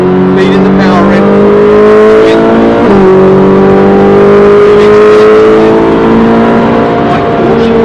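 A car's engine pulls hard out of a corner on the Brands Hatch Indy circuit on a wet, drying track, its loud droning tone climbing steadily in pitch, with someone talking over it.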